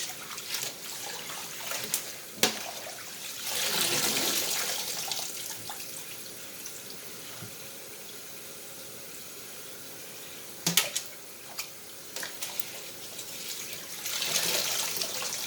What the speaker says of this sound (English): I'm still rinsing. This is my third rinse.